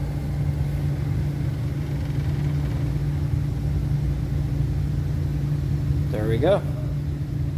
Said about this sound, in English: we did a forward and reverse direction or bias of the motor